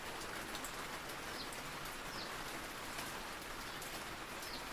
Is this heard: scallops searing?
no